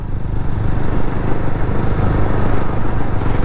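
Jawa motorcycle with a 334cc engine running steadily during a ride, a loud continuous low rumble with wind noise, no voices.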